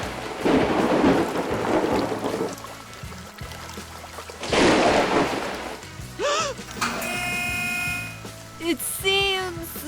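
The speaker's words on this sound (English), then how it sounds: "Oh no! It's raining now." Rumbling thunder rolls over steady pouring rain, loud and sustained, with a second heavy burst midway and some whistling tones near the end.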